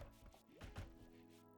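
A wood-chopping effect from a video game colony simulator plays quietly, a few dull thunking chops layered over background game sound.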